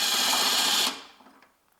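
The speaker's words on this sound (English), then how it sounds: "and my electric driver" An electric driver on a 12 mm bolt while replacing the hybrid converter of a 2002–2009 Toyota Prius 1.5, whirring steadily for under a second close up before cutting off, with a few faint clicks afterward.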